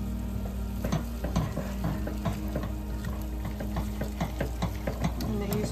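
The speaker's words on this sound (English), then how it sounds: "Give that a stir." Sauce for Cuban shredded beef cooks with onions in a pan, producing a continuous bubbling sizzle with frequent clinking stirring strokes over a steady low hum.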